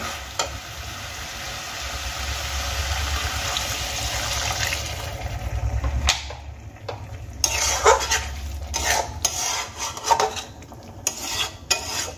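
A little water poured into a pan of sautéed potatoes and spices for begun aloo jhal, a hissing rush followed by sputtering sizzle and scraping stirs.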